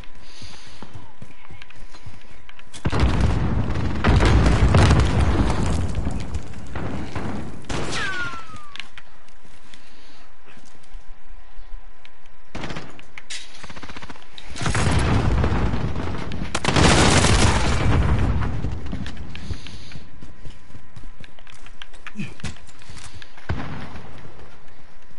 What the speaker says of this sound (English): Seems like some explosions are happening there.